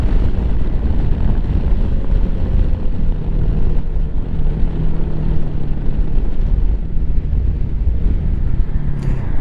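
A Lifan KPX 250 dual-sport motorcycle on the road, its engine holding a steady low drone under constant wind rush for the whole stretch, with no one talking.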